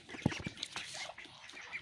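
Farm ducks quack in short bursts while feeding on a mix of rice bran and cooked rice, a few loud calls up front and softer chatter after, with no talk.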